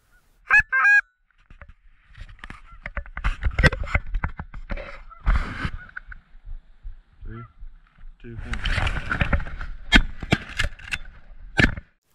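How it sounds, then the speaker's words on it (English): Geese honking repeatedly on a duck hunt, drawn in with a Power Cluck Zinc goose call; loud, close bursts of honks and calls come in irregular clusters across the clip. "Sure enough, a few geese came in."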